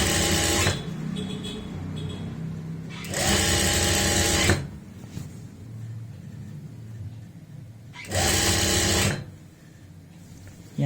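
A sewing machine stitching a seam on a kurti runs in loud, close bursts of rapid whirring, stopping between runs, with a soft voice audible in the pauses.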